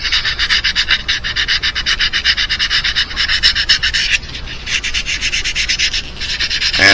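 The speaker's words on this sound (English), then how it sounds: "by giving it a light sanding all over the place" Rhythmic scratchy strokes of sandpaper lightly sanding old paint on a vintage 1970s Ike, back and forth, close and loud, with a brief pause partway through.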